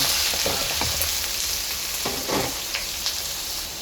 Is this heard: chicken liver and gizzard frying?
yes